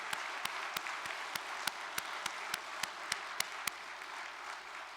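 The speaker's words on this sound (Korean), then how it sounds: "여러분 큰 격려의 박수를 보내주시기 바랍니다" Faint crowd applause for cadets at a church gathering, a soft continuous wash of clapping with sharper single claps standing out at a fairly regular beat, heard from a distance.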